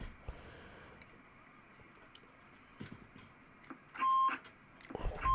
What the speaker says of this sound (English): That's the low beep.